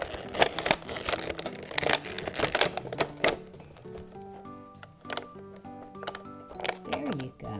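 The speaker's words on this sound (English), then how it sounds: "If we put the plastic back in, we have some cool shelves." A plastic tray is pushed back into a Shopkins vending machine storage tin, giving sharp clacks and rattling clicks in uneven bursts that come close and fairly loud, with quieter scraping between the knocks.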